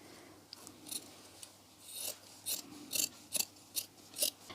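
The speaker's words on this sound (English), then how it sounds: "So I'm going to cut off the excess material here." Scissors snip away excess fabric for a handmade Easter craft, a run of close, crisp cutting strokes that grow quicker and louder toward the end.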